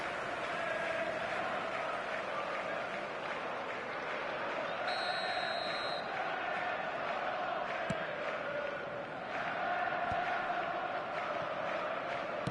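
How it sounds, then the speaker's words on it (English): Stadium crowd in the eFootball football game, a dense, steady roar of applause and chanting that fills the whole stretch at an even level, with a brief whistle-like tone partway through. "Now the crowd are demanding that they just finish this off"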